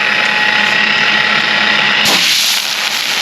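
A polisher spins a buffing pad to clean it, whirring steadily at close range with a loud mechanical hum that shifts in tone partway through.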